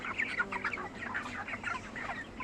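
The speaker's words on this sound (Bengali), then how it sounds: "আমার মুরগিরা খাওয়া দাওয়া করে একটু রেস্ট নিচ্ছে।" Chickens clucking in a steady, busy stream of short calls as the flock rests after feeding, fairly close, with no talk.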